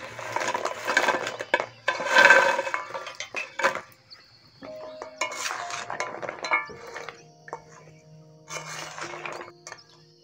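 Fried gaja sweets set gently into cooled sugar syrup in a pot, giving soft scattered clinks and knocks of metal and crockery, a few close bursts separated by quiet gaps, with no talking.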